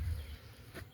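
Honey bees humming faintly at newly built hives while new colonies are set up in a nature reserve apiary: a low, steady drone, distant and quiet, with no voices.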